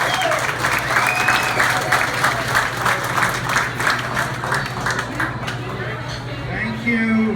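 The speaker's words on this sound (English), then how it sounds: "Let's give him a big round of applause." Steady, loud audience applause at a Houston event, a thick wash of many clapping hands sustained for several seconds with a low hum beneath and voices faintly mixed in.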